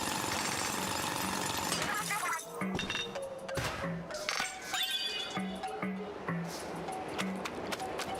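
Drilling into a crystal in the Splatoon video game, a harsh grinding, clattering racket with shattering, tinkling bits over busy game music and effects.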